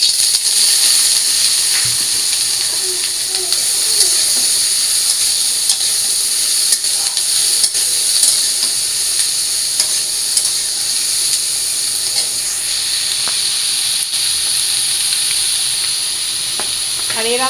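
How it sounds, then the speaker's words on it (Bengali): Parboiled mixed vegetables frying in a pan with a little oil for fried rice, giving a continuous close hissing sizzle with occasional clicks and a faint voice in the background. "রাইস রান্না করার জন্য আমি এখন সবজিগুলো ভেজে নেবো।"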